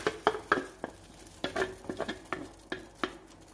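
Roasted coconut being stirred into boiling water for sweet pidi kolukattai, a run of regular spoon clinks and scrapes against the pot over a low bubbling bed, close up with no voices.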